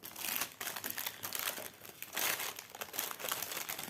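Cross-stitch kit being wrapped in packaging, close, continuous crinkling and rustling of plastic or paper in uneven bursts with no talk.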